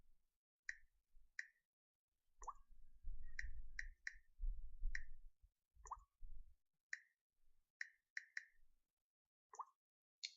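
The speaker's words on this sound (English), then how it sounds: "I'm typing in right now on my phone." Soft tapping clicks of typing on a phone sound one after another at an irregular pace, close and quiet, with a few low muffled thumps between them.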